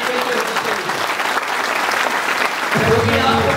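A seminar audience breaks into loud, dense clapping for a child, with a voice speaking over part of the applause.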